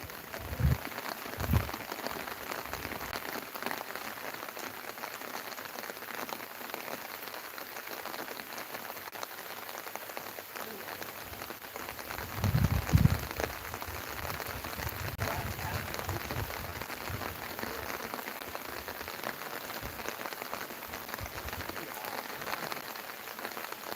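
Steady rain patters on surfaces at Hill View Park in Idukki, a continuous soft hiss of drops lasting throughout, with a couple of brief louder low thumps and faint distant voices underneath.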